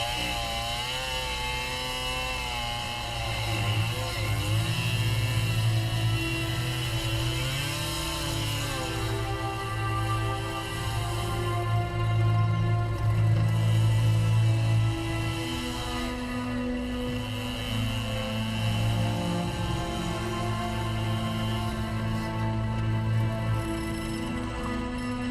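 A chainsaw engine runs steadily for about twenty-five seconds, a loud buzzing drone whose pitch rises and falls as the throttle changes.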